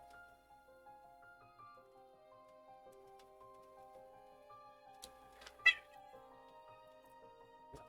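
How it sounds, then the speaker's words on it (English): A cat gives one short, clear meow partway through, close and fairly loud, after some shorter faint calls, over quiet sustained background tones. "Meow, you say, meow, meow."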